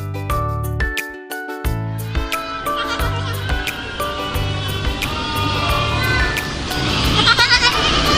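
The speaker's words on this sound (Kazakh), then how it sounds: "Ешкі." A goat bleats several times in a farmyard over about eight seconds, loud and close, with wavering cries and short pauses between them.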